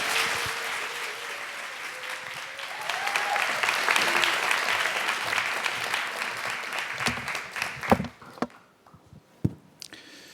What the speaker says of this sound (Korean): 목사님을 환영하는 마음으로 나오실 때에 큰 박수로 맞이하겠습니다.